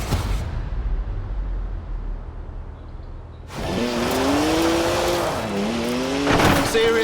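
A BMW 1M pulls away in Forza Horizon 4: quiet at first, then a loud engine note rising and shifting through gears with brief tire squeal, close and prominent.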